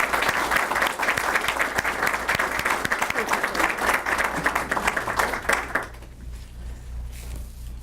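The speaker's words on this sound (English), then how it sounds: "give you a round of applause" An audience at a workforce development center's anniversary celebration claps in a full, sustained round for about six seconds, then the applause drops off sharply, leaving a quieter room.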